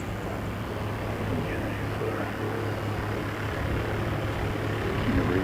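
Light aircraft from a small flight school arriving at an airfield, a steady low engine drone holding throughout at moderate distance over broad background noise.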